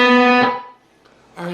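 Distorted electric guitar playing an octave lick, a sustained sliding octave note that fades, a brief pause, then another note struck, close and loud.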